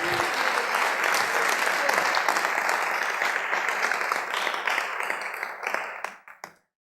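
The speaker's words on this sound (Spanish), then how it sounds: "Dele un fuerte aplauso al Señor" In a church teaching service, a congregation gives a strong, sustained round of applause that thins to scattered claps and stops abruptly.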